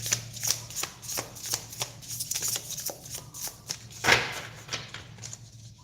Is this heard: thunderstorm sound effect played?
no